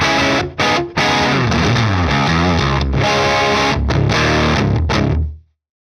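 Crunchy, fuzzy distorted electric guitar tone from a Spira guitar on the parallel middle pickup position plays a sustained riff with chords and bends, loud and up close, then cuts to silence.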